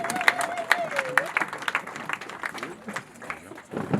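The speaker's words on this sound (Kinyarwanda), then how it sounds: "Twemere Imana amashyi menshi cyane" Congregation clapping in an ADEPR church service, a ragged patter of hands under a voice calling out, with cheers rising and fading.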